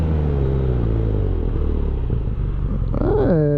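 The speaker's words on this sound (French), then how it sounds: "Juste faire un petit test de freinage, bon, sans aller comme un fou hein," BMW R nineT Pure motorcycle in a braking test, engine rumbling steadily close by, then a rising whine and revving near the end as it slows and picks back up.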